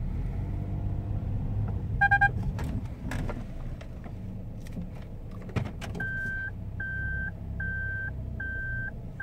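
Daihatsu Move Smart Assist collision warning: a run of short, evenly spaced electronic beeps sounds inside the car over a low engine rumble, after a few earlier clicks and jangles.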